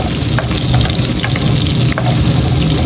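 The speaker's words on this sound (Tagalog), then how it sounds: "Dito na lang ako magigisa sa pinagsangkutsahan ko ng karne." Onions and aromatics sautéing for adobo in the same pan where the meat was seared, a loud, steady sizzle and fry with occasional stirring scrapes, no voices.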